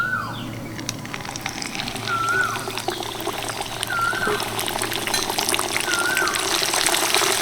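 Strands of lachha semai dough sizzle steadily in hot oil, a continuous bubbling crackle with a few soft bird chirps in the background.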